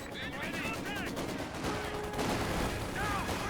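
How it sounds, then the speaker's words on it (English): Rapid Maxim machine gun fire rattles through a Company of Heroes 2 battle, sustained bursts in the middle distance with other gunfire mixed into a dense, continuous game soundscape. "Maxim suppressing the Grenadiers."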